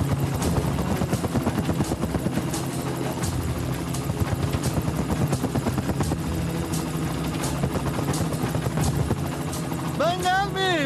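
A helicopter's rotor thumps in a fast, steady rhythm, loud and close, with a voice briefly rising near the end.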